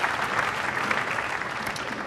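Crowd at the Barnsley Metrodome applauding an American bowler during a Weber Cup ten-pin bowling match, a steady, dense wash of clapping sustained throughout at close range.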